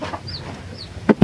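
A brooding mother hen sitting on her nest gives soft, low clucks close by, followed by a couple of sharper clucks at the end.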